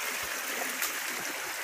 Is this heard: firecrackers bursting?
no